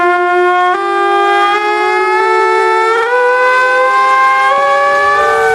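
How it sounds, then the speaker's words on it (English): Loud, sustained siren-like wail from trumpets held by herald statues, blown by air forced along with rushing water in a Cities: Skylines park; several overlapping tones glide and shift pitch step by step, filling the whole stretch with no speech. "The rushing water brings a lot of air with it, and that's forced through the trumpets that the herald statues hold."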